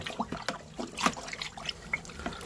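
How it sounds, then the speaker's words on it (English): Birch sap being stirred with a thermometer in a plastic brewing bin holding about 8 litres, giving soft irregular sloshing and light liquid splashes up close with small knocks. "with my fancy thermometer, I'm just going to give it a stir"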